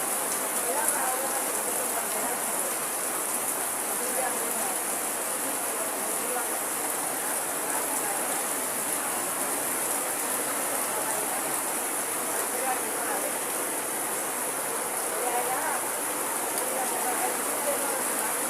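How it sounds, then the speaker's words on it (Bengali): Heavy rain pours down in a dense, unbroken hiss that stays loud and even for the whole stretch. "আজকাল খুব ভয়াবহ বৃষ্টি"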